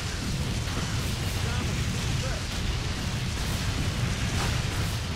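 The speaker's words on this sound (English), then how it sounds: "Here comes the artillery." Artillery fire in the Blitzkrieg 3 video game during a Dunkirk beach defense battle: a dense, continuous rumble of overlapping explosions and booms with no pauses, loud and steady throughout.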